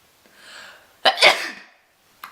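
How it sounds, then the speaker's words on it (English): A single sharp sneeze bursts out after a soft breathy inhale, followed by a brief exhale and a small click; close and loud, no talking. "Oh, I'm gonna sneeze."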